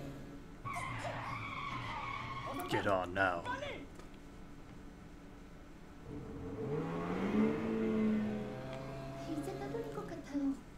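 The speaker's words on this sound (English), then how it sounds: "It's a motorcycle." Motorcycle in The Coma 2: Vicious Sisters video game, tires squealing in a skid, then the engine surging and revving up with sweeping pitch rises, loud and close, while a person talks over the early part.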